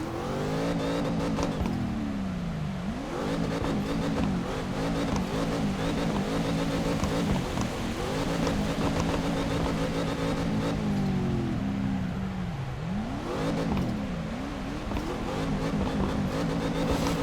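A Chevrolet Camaro drifting in the CarX Drift racing game gives a loud, continuous engine drone, with the revs repeatedly sweeping down and climbing back up as the throttle is worked.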